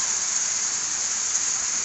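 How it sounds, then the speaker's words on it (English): Hail falls steadily outdoors near a feed barn, a dense continuous hiss of pellets striking surfaces, loud and even throughout with no voices. "More and more hail."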